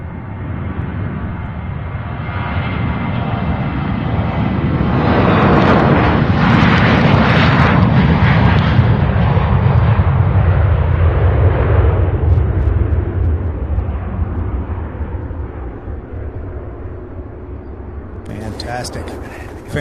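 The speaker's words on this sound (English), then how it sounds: "Fantastic takeoff. Gear up before it clears the building." Large jet aircraft taking off at Louisville International Airport, a loud roar swelling to a peak then slowly fading into the distance, with a commentator speaking over it.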